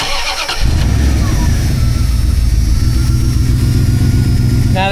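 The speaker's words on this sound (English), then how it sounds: "So let's see if it even starts." A cheap used van's engine cranks briefly and catches, then settles into a loud, steady idle that runs on close by without any voices.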